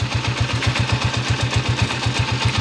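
A motorcycle engine idles close by, loud and rough, with a steady fast rhythmic knock from a loose engine bearing.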